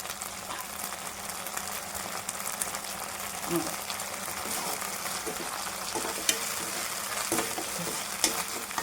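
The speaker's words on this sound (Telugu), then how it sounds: "చూసారు కదా, ఇలా కొంచెం ఫ్రై చేసుకున్నామంటే పచ్చివాసన పోయి బాగుంటుంది" Tomato ketchup fries in a pan for baby corn 65, a continuous soft sizzle with light stirring clicks and a couple of sharp utensil taps toward the end. Nobody talks over it.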